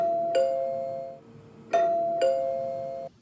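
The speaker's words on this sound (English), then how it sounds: "Our doorbell never stopped ringing." A two-tone electronic doorbell chimes three times, clear and close, with short pauses between rings.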